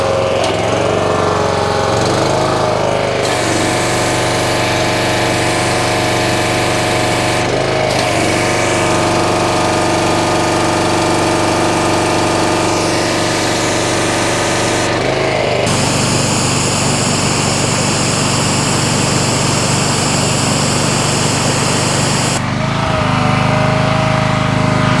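A CAT pressure washer engine with a newly replaced valve runs loud and steady close by, a continuous droning buzz whose pitch and spray noise shift a few times, with no voices.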